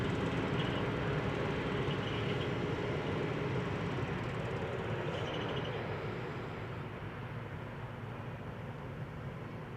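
Jet aircraft at a busy airport, an Emirates A380 among them, heard as a loud, steady, broadband engine roar that fills the whole stretch and eases slightly toward the end, without talk.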